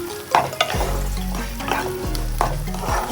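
Onion paste fries in a pan as a spatula stirs it, a steady sizzle broken by a few sharp scrapes and knocks against the pan; no voices.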